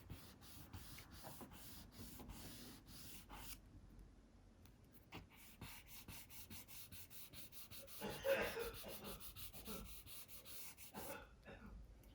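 A kneaded eraser rubs across a paper drawing in faint, soft repeated strokes, quiet and close, with short pauses between passes.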